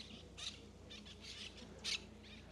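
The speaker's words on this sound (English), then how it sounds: "Oh my gosh, the parrots are going crazy." Flock of parrots at a tropical resort in Curaçao, heard faint and distant, giving scattered harsh squawks over a steady hum of background noise.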